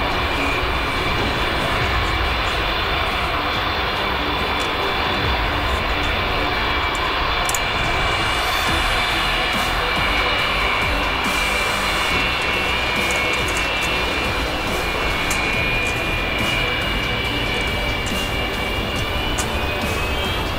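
The Antonov AN-225, the largest cargo aircraft in the world, produces a loud, continuous engine roar with a steady high whine running through it, unbroken for about twenty seconds.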